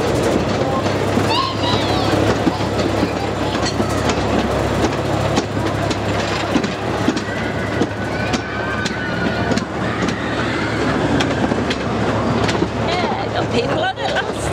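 A full roller coaster train climbs the lift hill at Blackpool Pleasure Beach, a steady loud mechanical rumble and hum with a rapid run of clattering clicks lasting throughout, and crowd voices mixed faintly underneath.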